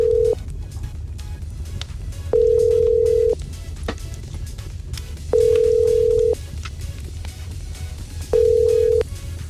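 A telephone ring tone sounds in three long, steady bursts separated by pauses, clear and close, heard while a call comes in to a radio station's prize-draw winner.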